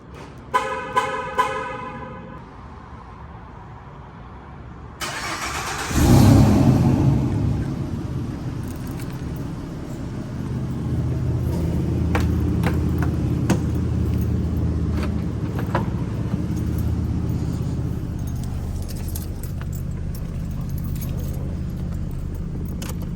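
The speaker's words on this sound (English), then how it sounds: "Finna do a POV of me driving a Mustang" Keys jangle for a few seconds before a Ford Mustang 3.7 engine cranks and catches with a loud burst, then settles into a steady, close, low rumble at night.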